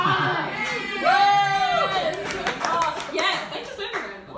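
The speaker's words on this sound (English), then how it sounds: "They deserve a round of applause." Audience applause at a stand-up comedy show in Melbourne, a burst of clapping from the crowd swelling mid-clip with cheering mixed in, while a voice speaks over it.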